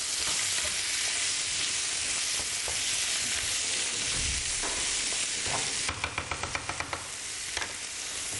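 Tomato paste and other ingredients sizzle steadily in a hot pan, a loud continuous frying hiss, with a run of quick metallic stirring taps near the end.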